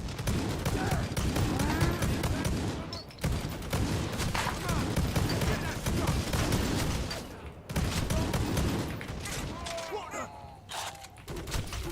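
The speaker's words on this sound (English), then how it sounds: "Bolt pistol is cool" Bolt pistol fire in the Necromunda video game, dense bursts of gunshots and mechanical clatter running almost continuously, with brief lulls, mixed with game effects and a voice speaking.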